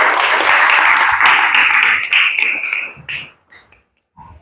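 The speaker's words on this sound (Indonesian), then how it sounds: "Tepuk tangan dulu, Nak." Children in a classroom clap for a group of classmates, a dense burst of applause that holds for about three seconds, then thins out into a few scattered claps and fades.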